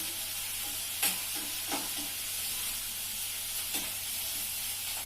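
Onions salted and frying in a pan give a steady, bright hiss that runs close and unbroken, with a few soft stirring knocks every second or so and no one talking.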